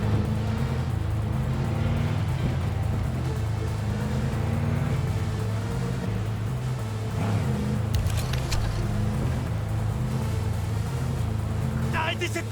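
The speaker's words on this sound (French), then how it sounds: "Arrêtez cette putain de bagnole!" A car drives and revs in the video game Cyberpunk 2077, a steady low engine drone with rising and falling revs and a few sharp clatters near the end, while voices talk over it.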